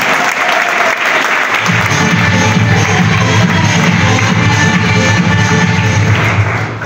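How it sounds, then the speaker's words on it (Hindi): Loud, dense audience applause for new associates fills the room at a business meeting, rising after a brief quieter opening and continuing steadily without pause. "एक बार हमारे नए एसोसिएट के लिए जोरदार तालियां, जोरदार"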